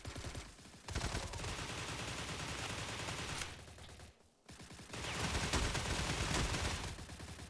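Sustained bursts of automatic rifle fire from an HK G3A1 battle rifle ring out in a video game shootout against armored NPCs at a military camp, loud and dense, with brief pauses between long volleys.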